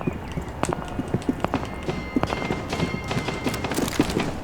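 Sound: footsteps in Rainbow Six Siege video game

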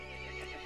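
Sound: horse neighing in video game Resident Evil Village

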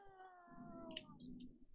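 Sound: cat meowing

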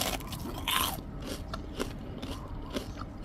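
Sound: biting crispy fried shrimp

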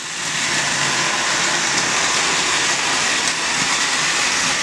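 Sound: motorized toy train running on track

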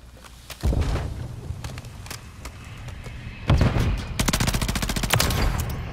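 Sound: gunfire in the video game Modern Warfare III multiplayer

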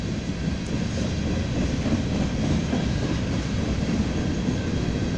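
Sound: BNSF freight train passing

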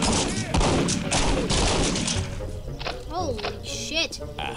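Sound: grenades exploding in a video game

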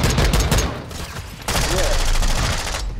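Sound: pistol shots in a video game

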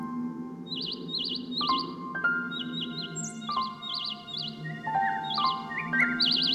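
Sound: robin chirping

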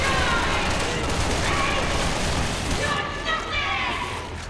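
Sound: gunfire from a gun in the video game Resident Evil 6

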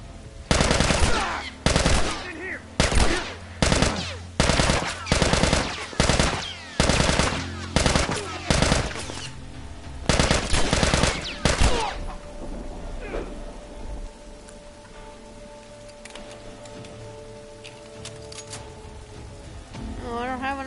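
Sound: gunfire in video game The Last of Us remake

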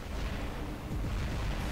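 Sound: gunfire from robots in the video game War Robots

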